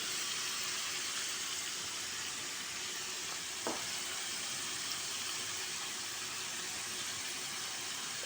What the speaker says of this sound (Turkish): Patatesi kısık ateşte yani orta ateşte pişirdiğimiz zaman güzel oluyor